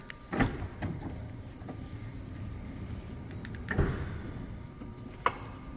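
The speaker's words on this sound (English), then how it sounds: "Open up the side doors with the key fob, as well as the back hatch." A 2022 Chrysler Pacifica Pinnacle has its powered side doors and rear hatch opened by key fob, giving faint motor hums and a few soft clunks and latch clicks at intervals over a quiet outdoor background.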